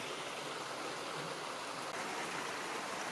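A flowing stream rushes in a steady broadband wash at an eroded creek bank behind houses, constant and close with no voices.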